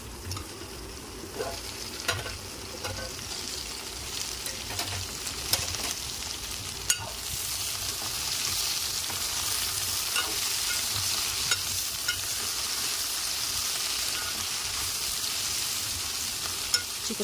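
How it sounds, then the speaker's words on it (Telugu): Broad beans fry in hot oil in a pan, giving a steady, soft sizzle broken by scattered scraping clicks as the beans are stirred now and then. "మొత్తం పెట్టేసి తీస్తూ మధ్య మధ్యలో కలుపుకుంటూ చిక్కుడుకాయ అంతా ఫ్రై చేసుకుందాం."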